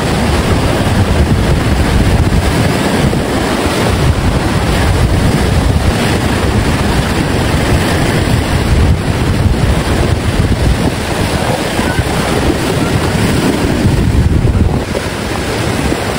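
Big, strong ocean surf at a surfing beach in the Davao region, a constant heavy roar of breaking waves with gusty wind buffeting the microphone, loud and unbroken with no voices.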